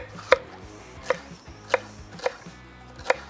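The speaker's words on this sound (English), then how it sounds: "So with 1 green pepper, slice that up nice and thin onto our plate." A knife slices a green pepper into thin strips on a board, making five crisp, evenly spaced chops that stand out against a quiet background.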